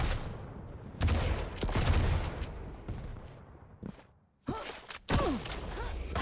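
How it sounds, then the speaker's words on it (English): Rapid railgun fire rings out during a fast Quake 3 arena duel, several sharp shots and bursts stacked over constant game noise, with a brief near-silent gap before the firing resumes loud and close. "Ryder going in with the aggression with the rail"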